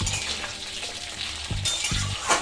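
Potatoes and cauliflower fry in hot oil in a wok, giving a steady close sizzle broken by a few soft scraping stirs, with no talking.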